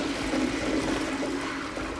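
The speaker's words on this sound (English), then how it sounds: "you will finally be able to flush the toilet" A toilet in the hub of the factory-building game Satisfactory flushes with a steady whooshing rush of water, heard close and alone for the short span without breaks.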